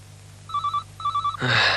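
A telephone rings unanswered, two double bursts of bright electronic trilling with a short gap between them, quiet in a room, before a louder clatter cuts in at the end.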